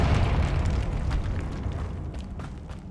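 A Confringo fire spell bursting in Hogwarts Legacy, a loud, rumbling explosion that starts at full force and slowly decays into a crackling roar over a few seconds.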